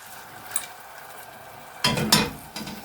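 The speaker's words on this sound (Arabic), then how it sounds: "رح اضيف شويه حليب." Milk poured into toasted flour in a pot for creamy mushroom soup, then stirred: a faint tap early on, followed by a louder burst of scraping, splashing stir near the end, alone without talk.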